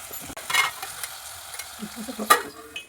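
Onions frying in a pan with bay leaf, cloves and cinnamon for bagara rice, a low sizzle punctuated by clattering spoon strokes, close up and uneven in loudness.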